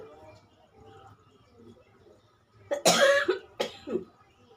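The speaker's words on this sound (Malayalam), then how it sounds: "പനിച്ചിട്ട് ചുമച്ചിട്ടൊക്കെ ബുദ്ധിമുട്ടായിട്ടിരിക്കുന്ന" Two sharp coughs close by from a person with a fever, the first a longer burst and the second shorter, following a stretch of low background murmur.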